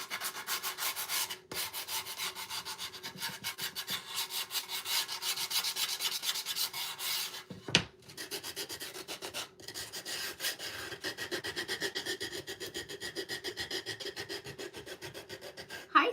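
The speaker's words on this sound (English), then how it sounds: "I'm going to try to sand the back a little bit as well." The back of a wooden primitive snowman is hand-sanded in fast, continuous back-and-forth rasping strokes, close and steady, with one brief pause partway through.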